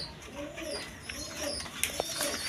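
Indian Bombay pigeons with white beaks coo softly at close range, a few low murmuring calls over faint background hiss with a couple of sharp knocks.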